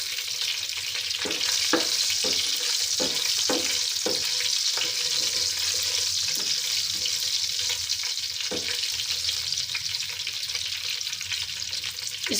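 Five or six whole red chillies with cumin seeds fry gently in a pan over low to medium heat, a steady close sizzle broken by occasional sharp scrapes and taps of stirring, with no voices.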